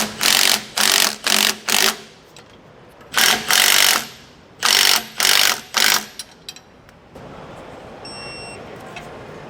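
A power tool tightens steering stabilizer hardware on a Roadmaster Class A motorhome in about ten short, loud whirring bursts grouped in clusters, followed by a low steady hum.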